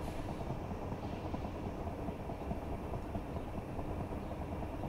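A Train Simulator 22 train on the Chatham Main Line between Victoria and Dover, heard from outside: a steady, continuous low rumble of the engine and rolling wagons, fairly loud and unbroken, with no talk.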